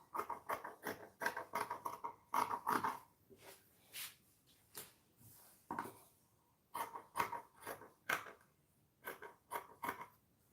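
Scissors snip through fabric for a Bubu kaftan in quick runs of crisp, close cuts separated by short pauses, quiet and unaccompanied by talk.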